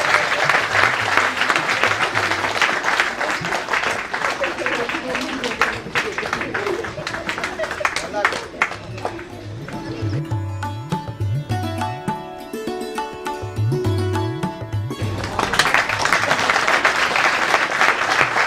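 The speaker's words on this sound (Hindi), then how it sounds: "जोरदार तालियां बिटिया के लिए।" A crowd at an International Yoga Day program in Indore applauds a girl's yoga performance, giving sustained dense clapping over background music that dips midway before swelling again.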